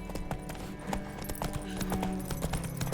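Roach the horse gallops in The Witcher 3, a steady run of close clip-clop hoofbeats over continuous background music.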